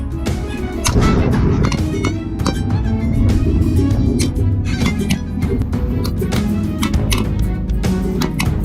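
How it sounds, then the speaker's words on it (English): Rapid gunshots crack in quick succession during a wild boar hunt in snowy fields, over a dense, continuous rumble, loud and sustained with no pauses. "In a matter of seconds, gunshots echoed rapidly"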